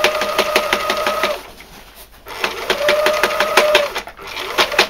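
Sewing machine running a triple seam on a Gorka jacket, stitching in fast rhythmic bursts with a brief pause in the middle, close and fairly loud with no talking.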